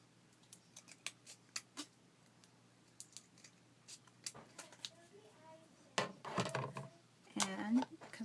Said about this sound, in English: I'm going to need my tougher scissors.